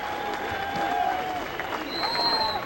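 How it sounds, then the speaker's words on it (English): Spectators at a beach volleyball match cheer and whistle in a steady, broad roar, with a few shrill whistles over the crowd noise and faint talk underneath. "Crowd is up once again for Eric Fonoimoana."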